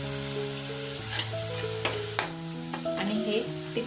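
Spoon stirring red chili powder into steamed potatoes in a pan, scraping under a steady sizzle with a few sharp clinks, close by, with a continuous tonal hum underneath.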